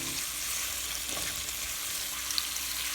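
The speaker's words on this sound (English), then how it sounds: "Now I'm going to go ahead and stir the butter into the pasta, really blending this together now" Butter being stirred into penne pasta with vegetables in a hot pan gives a soft, steady sizzle with faint scraping stir strokes, quiet and close, with no talking.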